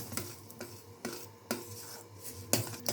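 Roasted semolina being stirred and mixed in a pan for a pea upma, with a few soft, evenly spaced scrapes and taps of a spoon against the pan, fairly quiet and without talk.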